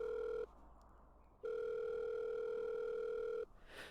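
Ringback tone from a telephone in a video game after a number is dialed: two steady electronic rings separated by a pause, close and clear, with no talk over them.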